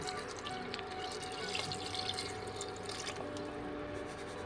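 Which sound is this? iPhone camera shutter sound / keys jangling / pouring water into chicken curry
pouring water into chicken curry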